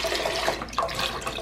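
Water pours steadily into a vegan chicken broth mixture in a home kitchen, a continuous close splashing stream with no talk.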